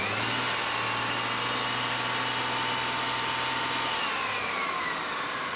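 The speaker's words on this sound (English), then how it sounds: "I'm going to give her a little gas and actuate that compressor pump." Car engine being revved a little with the A/C compressor pump engaged during air-conditioning charging, a loud steady drone with a low hum that shifts slightly near the end, no talking.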